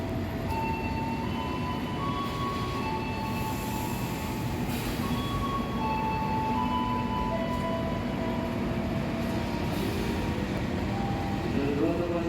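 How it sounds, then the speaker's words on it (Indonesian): Freight train pulling into Cirebon Prujakan station at night, a steady loud rumble of rolling wagons with high wheel squeals and tonal screeching threaded through, continuous and close throughout. "Kereta api barang akan segera merapat di stasiun Cirebon Perujakan."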